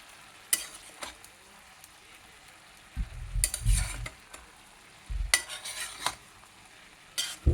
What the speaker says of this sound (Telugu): పూర్తిగా కలుపుకోవాలన్నమాట.